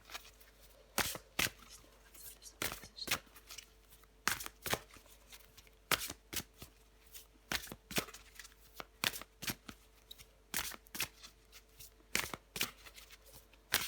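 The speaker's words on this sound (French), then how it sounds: "on prend encore une carte pour vous, les sagittaires" Tarot cards are shuffled and drawn in a long run of crisp riffling and slapping bursts, close and fairly quiet, with steady low hum underneath and no talk.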